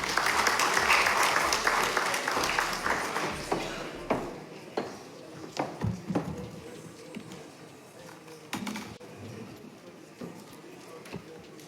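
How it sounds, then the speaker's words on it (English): An audience at a parliamentary ceremony breaks into a loud round of applause welcoming the keynote speaker; the clapping fades over several seconds into scattered, isolated claps. "Please join me in welcoming Ms. Rebecca Adad-Donto with a round of applause."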